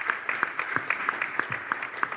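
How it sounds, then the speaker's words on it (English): Audience applause at an African emerging markets forum, steady clapping filling the whole short stretch at moderate loudness. "Please give me a round of applause."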